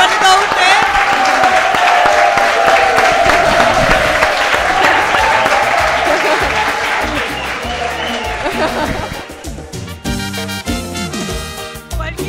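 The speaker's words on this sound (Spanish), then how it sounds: "Y a ver si podemos despedir este primer programa con un aplauso" A studio audience at a talk show applauds loudly and continuously, dense clapping with crowd noise that gradually thins and fades toward the end.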